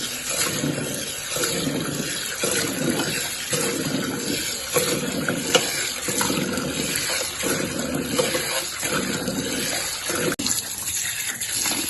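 Water runs steadily from a tap while raw ration rice is washed, a continuous close splashing gush with rhythmic swishes as the grains are stirred.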